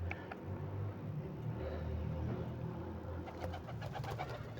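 Pigeons, homing and local breeds kept by a hobby breeder, coo softly and steadily nearby, with low repeated calls over a quiet room hum and no talking.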